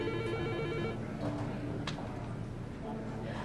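A telephone rings with a bright electronic trill that repeats in short bursts, fairly faint beneath a busy indoor background.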